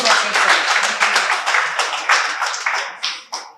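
An audience claps at a Nigerian electricity customer engagement forum: close, lively applause that starts full and thins out, ending in a few scattered last claps.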